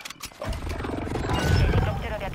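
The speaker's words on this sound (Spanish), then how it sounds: "Helicóptero" A helicopter in Call of Duty: Modern Warfare II builds from a faint whir into a loud, rumbling rotor chop that swells over about two seconds, with voices talking over it.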